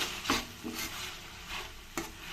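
Chopped capsicum and vegetables for fried rice are stir-fried in a pan, with three or four rhythmic scraping stirs over a steady low sizzle, close and clear with no talking.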